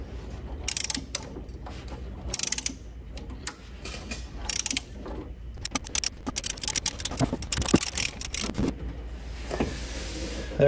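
A hand ratchet works on a stuck, rusty spark plug in a 1976 Ford Bronco Sport that sat parked for 30 years, giving irregular bursts of clicking and metallic scraping with short pauses between strokes.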